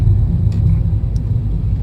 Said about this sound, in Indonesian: Bus umum juga masih beroperasi seperti biasa.